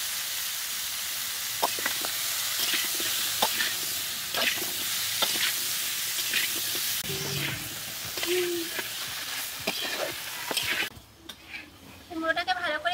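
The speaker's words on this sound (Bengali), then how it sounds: "কুমড়োটাকে ভালো করে ভেজে নিয়েছি," Pumpkin pieces with slit green chillies, turmeric and salt fry in a pan with a steady broadband sizzle, punctuated by scraping stirs and brief clinks; the sizzle thins toward the end as a quieter, clearer spell follows.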